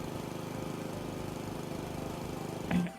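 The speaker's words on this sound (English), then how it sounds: "I feel like I'm shouting to talk over the lawnmower." A lawn mower engine runs continuously in the video game House Flipper 2, a loud, steady droning rumble that holds without pause, with a brief low blip near the end.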